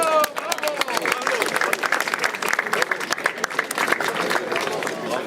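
A racecourse crowd at a French Arabian horse race applauds the winning jockey, with dense, steady clapping over several seconds while an announcer talks over it.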